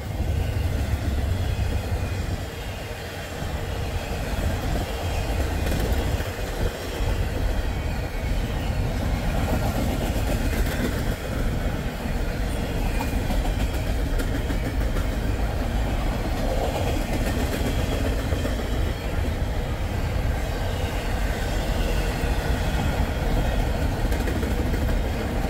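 A Norfolk Southern train rolls past close by on a cold, chilly day, a steady loud rumble and rattle of rail cars with rhythmic wheel clatter continuing throughout, with no voices.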